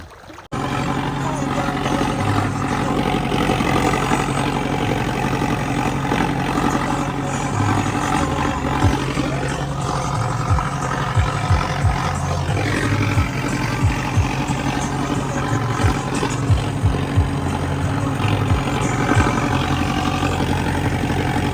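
A steady engine rumbles and idles throughout, loud and close, with low chugging and a few faint knocks over the drone.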